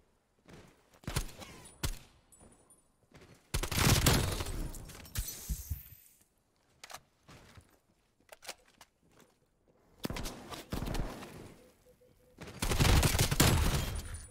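Video game gunfire in Black Ops Cold War, several loud bursts of rapid shots separated by quieter gaps with footsteps and clatter, the strongest volleys coming near the start, middle and end.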